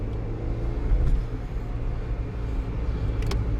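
A 1999 Ford Fiesta with a cold-start stalling fault idling close by in a garage shed, a steady low rumbling engine drone with a slight swell partway through.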